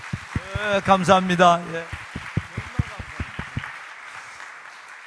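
Scattered clapping from a congregation at a Wednesday evening church service, a short burst of claps rising under and after a man's speech before fading out.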